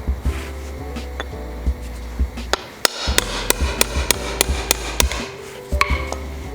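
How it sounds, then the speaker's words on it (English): A hammer strikes a socket extension to drive out a differential bushing on a BMW E36 M3, a series of sharp metallic taps, some in quick rhythmic runs, loud and close with no talking. "grab yourself a hammer and an extension, place the extension around the metal right there"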